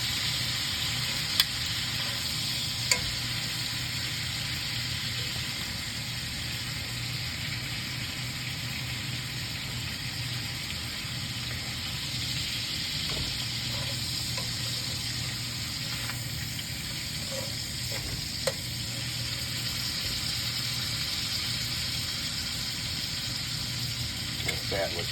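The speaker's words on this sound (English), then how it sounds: "Sear that fat right off there." Raccoon meat fat searing in a hot pan, giving a steady, moderately quiet sizzle and hiss that runs unbroken, with occasional faint pops and utensil taps.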